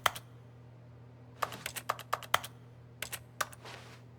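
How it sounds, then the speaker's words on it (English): Keys on a computer keyboard are pressed during The Stanley Parable, a handful of sharp, close clicks in loose irregular bursts over a low steady hum, with no voices. "Press P on your keyboard."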